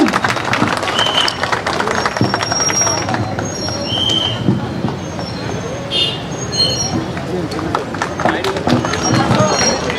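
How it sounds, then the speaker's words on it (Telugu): A crowd applauds continuously at a bumper prize draw held at a South India shopping mall, a dense, loud wash of clapping that lasts the whole stretch. "గట్టిగా చప్పట్లు కొట్టాలండి"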